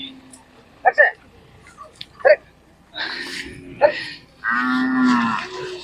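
A large white Khillar cow moos twice at a fair, a short low call and then a longer drawn-out one, close by, with brief bursts of nearby voices between them.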